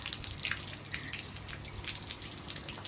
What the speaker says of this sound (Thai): ตอนนี้กำลังทดลองทดลองระบบน้ำค่ะ